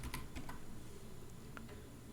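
Keys clatter on a computer keyboard as a short word such as localhost is typed into a web browser, a few quick close clicks in a short burst over a steady low room hum.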